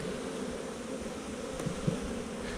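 Dense, steady hum of many honey bees swarming an open hive frame during an early spring split, a close continuous drone with a couple of brief louder buzzes passing near.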